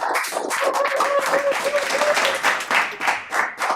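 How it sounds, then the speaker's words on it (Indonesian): Applause for Om Simon from people at a young entrepreneur's sushi restaurant, a burst of close, dense clapping that thins into scattered claps toward the end, with faint voices underneath. "Gua mau tepuk tangan buat Om Simon dong."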